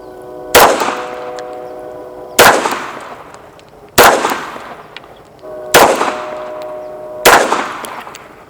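Five loud pistol shots from a 9mm 1911 at an outdoor range at dusk, evenly spaced about one and a half seconds apart, each a sharp crack with a ringing tail and no talking.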